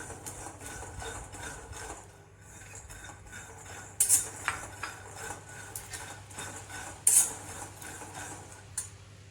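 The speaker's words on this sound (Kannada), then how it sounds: "ಇವಾಗ ನೋಡ್ಬೋದು ಹುರಿತಾ ಇದೆ ಶೇಂಗಾ" Peanuts roasting and being stirred in a pan over a low flame, a quiet metallic scrape and clink of the spoon with two sharper clatters partway through, no voices.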